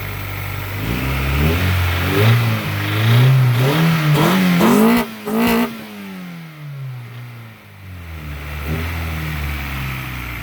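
A car engine, an Acura Integra 1.8 swapped into a 1992 Honda Civic, revs up and down repeatedly, rising and falling in pitch, then settles back toward a steady idle; close and loud.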